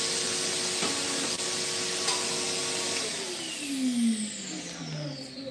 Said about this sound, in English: the big Hoovers make sound different than the small one